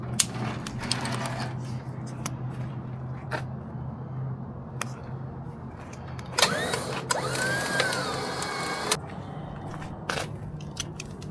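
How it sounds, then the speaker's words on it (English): Someone undoes a trailer winch cable after loading a hearse, giving sparse ratcheting clicks and clanks and then a denser burst of metallic rattling, close and fairly quiet. "I think I can actually undo my winch cable."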